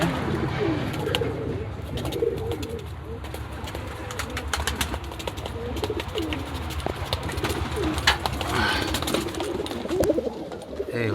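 Giribaz pigeons at a pigeon farm in Rajshahi coo repeatedly in soft, throaty bursts, close by, with occasional light clicks and rustling around them.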